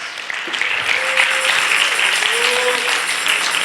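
Steady applause from a church congregation during a bilingual Spanish and English sermon, continuous clapping throughout with a voice speaking briefly over it.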